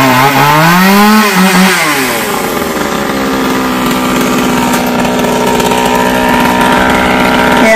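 A loud chainsaw cuts a long khaya tree branch that reaches over power lines. It revs up with a rising and falling whine, then holds a steady, close, roaring cut throughout.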